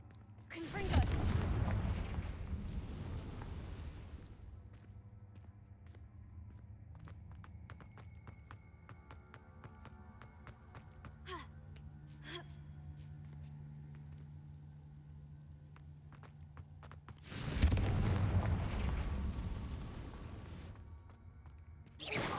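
Spell explosions from the Confringo fire spell in Hogwarts Legacy, two loud booming bursts at the start and near the end with a quieter rumbling game ambience and faint tonal effects between them.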